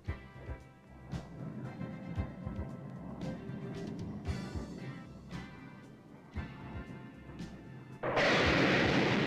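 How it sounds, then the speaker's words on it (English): An AGM Maverick missile fires from an F-111 Aardvark jet, with scattered thuds and bangs leading up to a sudden, loud, sustained roar of rushing noise that fills the final second. "Here you are looking at an actual AGM Maverick missile launch."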